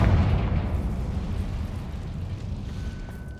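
A Confringo spell explosion in the video game Hogwarts Legacy, one loud deep boom that rumbles and slowly fades out over a few seconds.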